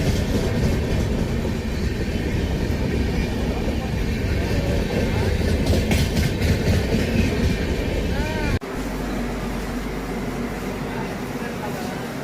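A passenger train runs on the rails, a loud, close rumble with clattering wheels and metallic squeals that cuts abruptly to a lower, steadier drone near the end.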